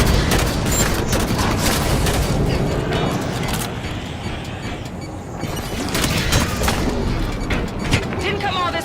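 Battle in Halo 5 Guardians with a dense, loud barrage of rapid gunfire, booms and explosions that barely lets up, voices shouting over the chaos.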